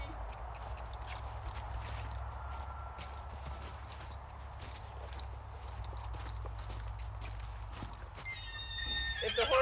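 A horse moving about during groundwork training, hooves clip-clopping steadily at moderate distance with an occasional whinny, over a constant low outdoor rumble.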